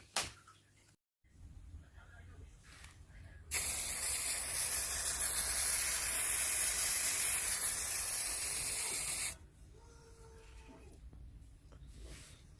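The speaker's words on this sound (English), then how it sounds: "So the spray paint I used to spray the dowel is Rust-Oleum." Bright gold Rust-Oleum spray paint hisses from an aerosol can onto a dowel in one loud, continuous burst lasting several seconds, framed by quieter handling clicks and knocks before and after.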